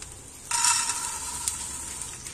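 Fried bengal gram hits a hot pan with a sudden sizzle, followed by a soft, steady crackle and light stirring for about two seconds, with no voices.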